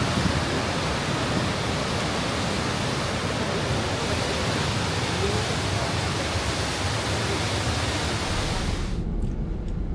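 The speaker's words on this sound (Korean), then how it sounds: "웅장한 폭포 소리의 여운을 안고 캠핑장으로 이동했습니다." A loud, steady roar of a waterfall in the Canadian Rockies fills the clip without letup, then cuts off abruptly just before the end.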